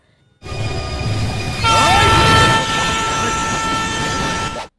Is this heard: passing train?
yes